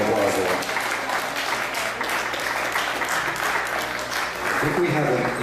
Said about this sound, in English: Give them a nice round of applause there.